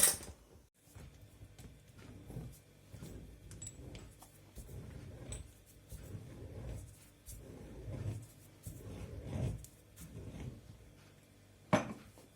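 Sterilized glass jars of borscht dressing are lifted out and their lids screwed shut, giving a series of soft clinks, scrapes and rattles that come close together. A sharper knock sounds near the end, in a quiet kitchen.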